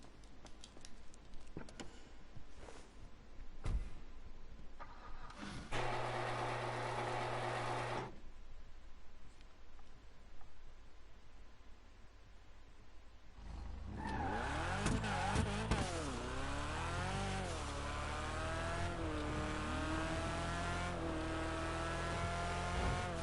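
A car in GTA Online revs with rising and falling engine pitch as its tires squeal and skid. It is quiet and choppy at first, then the engine roars steadily louder through the second half.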